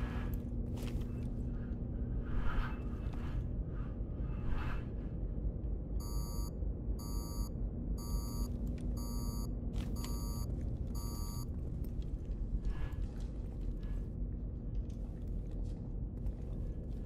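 Repeated electronic beeping inside a video game, six evenly spaced bright tonal beeps sounding over a steady low rumble and background game noise.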